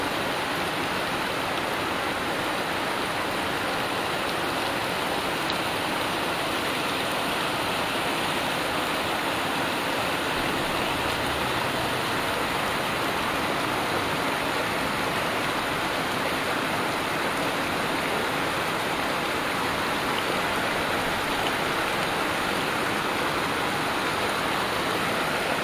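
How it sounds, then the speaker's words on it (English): Steady rain pours down while nearby streams rush and gush, a dense, continuous wash of water noise with no voices, heard from beneath a bridge. "the water and the raindrops coming down, and hear the streams"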